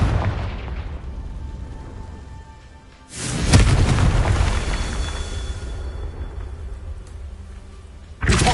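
A Confringo spell explosion in Hogwarts Legacy bursts with a loud boom that rolls off slowly under ambient rumble, followed later by another sudden blast at the end.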